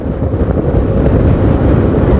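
Strong sidewind roars during a road cycling race with 120 riders, a loud, continuous low rumble buffeting the microphone throughout with no voices.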